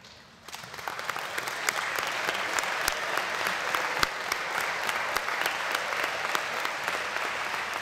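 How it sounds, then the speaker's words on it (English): Steady, loud applause from a large crowd at a new student convocation, starting after a brief quiet moment and continuing evenly throughout without letting up. "Let's wrap up with these last few with a big of applause"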